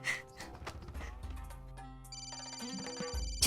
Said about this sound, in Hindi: सवेरे सवेरे किसका फोन है?